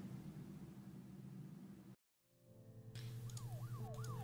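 A siren sound cue in the video game Her Story, a faint wailing siren rising and falling over static-like noise, cut by a brief silence before returning with a music cue.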